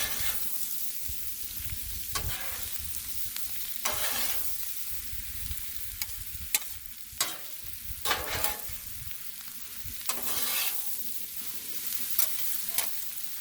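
Cabbage with sausage and bacon frying on a Blackstone griddle: a steady close sizzle broken by repeated scraping and stirring strokes of a spatula across the flat-top, no voices.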